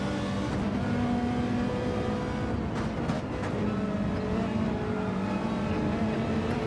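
A Ferrari race car pushed hard around Michelin Raceway Road Atlanta in a sim racing game, its engine a loud, continuous high-revving drone with brief shifts in pitch, heard alone.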